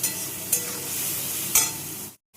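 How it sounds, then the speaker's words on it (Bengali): Ground spice masala stir-frying in oil in a pan, a continuous bright sizzle with two sharper scraping stirs, close and loud, ending in a brief silence. "ভালো করে এটাকে কষতে হবে, যতক্ষণ না তেল থাকে ততক্ষণ কষতে হবে।"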